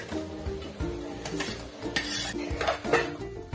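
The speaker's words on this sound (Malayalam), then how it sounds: "അതിലേക്ക് ഇതാ നമ്മൾ ചോപ്പ് ചെയ്ത് വെച്ചിരിക്കുന്ന ഉള്ളിയാണ് ചേർത്തുകൊണ്ടിരിക്കുന്നത്." Chopped onions tumbling into a pan with crushed ginger and garlic, heard as close clinks and scraping of a spoon against metal with light rustling, steady and busy throughout.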